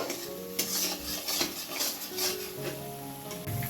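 Ginger, garlic and chilli paste frying in a wok, with steady close sizzling broken by scraping stirs and metal clinks of a spatula against the pan.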